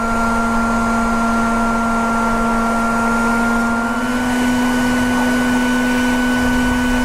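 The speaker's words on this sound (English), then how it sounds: "Have you ever used this vacuum before?" A vacuum runs steadily nearby to remove a bee swarm in a yard, a loud constant motor whine with a steady hum throughout and no pauses.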